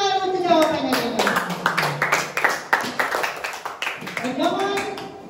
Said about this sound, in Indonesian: Sekarang tepuk tangan untuk jawaban dari Adi.